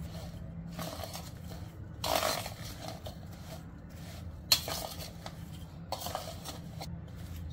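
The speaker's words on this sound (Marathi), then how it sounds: "आता हे मिश्रण आपण व्यवस्थित मिक्स करून घेऊया।" A spoon stirs a raw mango pickle mixture coated in spice masala and tempering in a metal vessel, giving soft scrapes and squishes punctuated by a few sharper clinks against the pot, with no voices.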